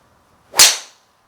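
A Cobra King F8 driver strikes a golf ball with a single sharp, bright crack that rings briefly and fades, loud and close, with no talk over it.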